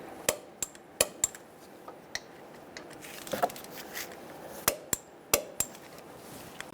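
A 13mm socket on a 1998-2011 Ford Ranger brake caliper gives faint, sharp metallic clicks and taps, roughly a dozen scattered over a quiet background, with no talking.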